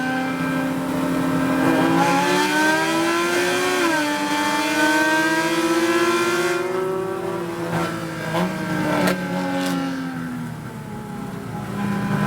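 Race cars rev and accelerate together at a NASA California race start at Chuckwalla, their engines whining up in pitch as the pack pulls away in a dense, continuous roar with a few sharp tire and gear noises.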